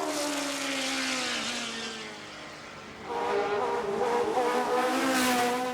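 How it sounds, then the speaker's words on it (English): A modern Grand Prix racing car on a Festival of Speed timed shootout run, its high-pitched engine howling and shifting as it passes, dipping briefly before surging back loud and close. "A more up-to-date Grand Prix car than the others we've seen in the shootout so far."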